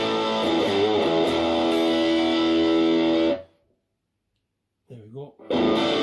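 Electric guitar through a BOSS DS-1 distortion pedal with the tone knob near 9 o'clock, ringing out loud, sustained distorted chords for about three seconds, cutting to silence, a brief short sound, then the dense crunch returning.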